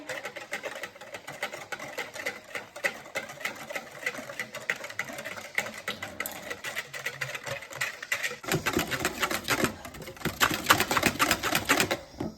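A hand mixer whips ingredients with added sugar, a steady dense whirring buzz running throughout at close range, growing harsher and louder in the last few seconds with no talking.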